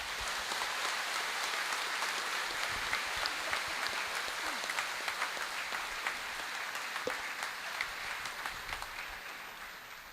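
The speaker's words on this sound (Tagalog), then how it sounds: "pasalubungan tayo pong masikan na palakpak" A congregation at a priest's ordination ceremony bursts into sustained, dense applause that fills the room and slowly fades toward the end.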